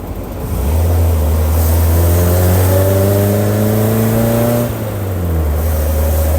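A JC Midge car engine accelerating steadily, its pitch rising through the gears with one shift dip, loud and close throughout with no talk.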